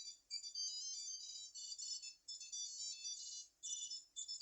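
Electronic beeping from a MeepMeep disc locator attached to a golf disc, a bright, high warbling chirp repeating in bursts of about a second with short gaps, loud and alone.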